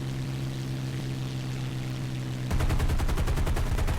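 Rapid .50 caliber machine gun fire from a P-51D fighter in War Thunder, a loud continuous burst of fast evenly spaced shots starting suddenly after steady engine drone.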